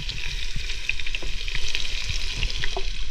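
Garlic frying in hot oil in a pot over an outdoor fire during village-style chicken cooking, a loud, steady crackling sizzle with sharp pops running throughout, no voices.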